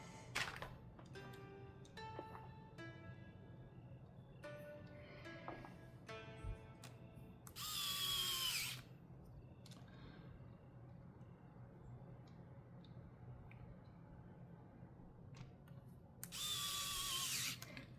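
Small screws are removed from a Nintendo Switch Lite during disassembly, heard as faint clicks and light taps with two louder, harsh whirring bursts, recorded close and quiet with no voices.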